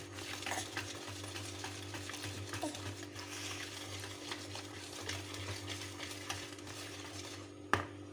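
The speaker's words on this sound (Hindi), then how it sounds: "अच्छी तरह मिक्स कर लें कि इसकी कोई गुठली ना बने।" Cake batter for a doll-shaped birthday cake being stirred by hand in a bowl to work out lumps, a steady soft scraping and swishing that runs the whole time over a low constant hum, with no talking.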